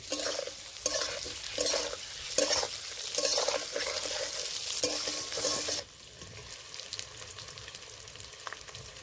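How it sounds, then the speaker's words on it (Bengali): Potatoes frying in a pan with salt and turmeric, a steady close sizzle with rhythmic stirring scrapes, loud at first and then dropping to a softer bubbling fry for the last few seconds. "এবার আলুগুলো ভেজে নেবো"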